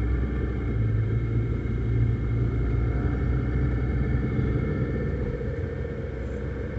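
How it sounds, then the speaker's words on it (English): Car driving up a road into Kingdom Come State Park, a steady close engine and road rumble running evenly throughout with no talk. "Let's drive up this road and see where it goes."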